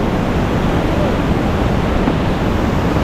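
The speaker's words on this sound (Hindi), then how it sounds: "ये यहाँ से मंदाकिनी नदी आती हुई" The Mandakini river rushes beneath a bridge on the trail toward Gaurikund near Kedarnath, a loud, continuous broadband roar of flowing water that stays steady throughout, close by and with no talking over it.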